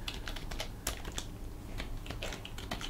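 Fingers rattle across a computer keyboard in quick, uneven clusters of clicks and keystrokes over a low steady hum, close and continuous throughout, with no voice heard.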